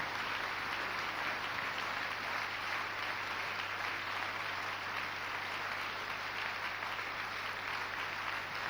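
A church congregation in Tsévié, Togo applauds and cheers to welcome the pastor, a dense, steady wash of clapping filling the room without pause.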